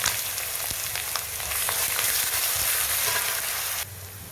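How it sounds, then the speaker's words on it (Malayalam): Ginger-garlic paste sizzles and fries in a pan with well-roasted grated coconut for a thick beef curry, a steady dense crackle with occasional stirring scrapes that drops slightly in level near the end. "നമുക്ക് ഇതിലേക്ക് ഇഞ്ചിയും വെളുത്തുള്ളിയുടെ പേസ്റ്റ് ഇട്ടിടാമേ."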